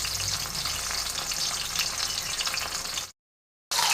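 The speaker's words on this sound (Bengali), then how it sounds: "তো এইভাবেই আমি বাকি দুটো মাছও ভেজে নেব।" Fish fries in hot oil with a dense, even crackling sizzle, close and loud, briefly cutting to silence before resuming for a spinach-and-fish dish.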